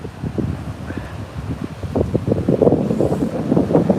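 Strong gusty wind at a North Sea beach buffeting the microphone, low rumbling bursts that grow denser and louder toward the end, with faint surf underneath.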